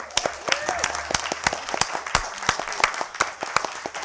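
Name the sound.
audience applause at community forum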